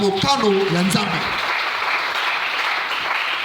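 A church congregation breaks into sustained applause. A voice speaks over the start, and then the steady clapping continues alone at an even level.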